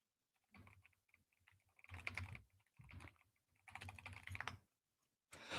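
Someone types on a computer keyboard in several quick bursts of soft, close key clicks separated by short pauses. The sound is fairly quiet, and no one speaks.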